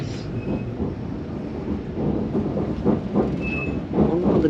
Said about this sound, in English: On one of the new adventure trains,